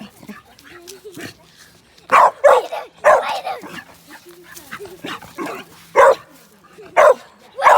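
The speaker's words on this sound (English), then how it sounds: "You good dog." A wet dog named Chloe, back from playing in a creek, lets out loud sharp barks and yips in irregular bursts, with quieter whimpering and snuffling sounds between them.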